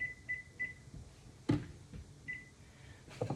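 A kitchen timer gives short electronic beeps, several quick chirps in uneven bursts, while a cook sets it during baking of oatmeal crisps, mixed with faint handling clatter.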